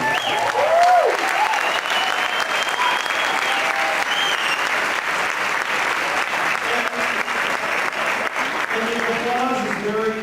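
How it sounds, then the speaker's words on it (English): A large audience at a live stage event applauds loudly and continuously, with dense clapping and some crowd cheering throughout. "The applause is very appropriate"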